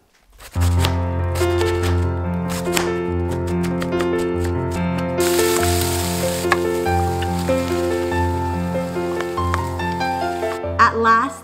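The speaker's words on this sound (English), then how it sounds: "I decided to remix it by making a fried rice." Fried rice with cabbage and chicken sizzling in a hot pan, a steady crackle running beneath louder background music, briefly swelling in the middle.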